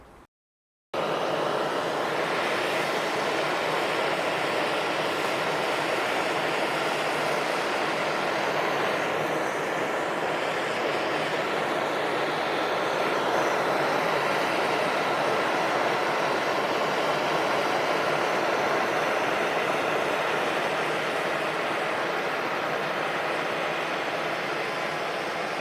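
A Chinese-made Yamaha outboard motor, running after an oil change on its repaired gearbox, drones steadily for about twenty-five seconds after a brief silent start, a constant broadband roar with no talking.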